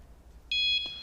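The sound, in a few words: alarm that sounds when someone touches the tapestries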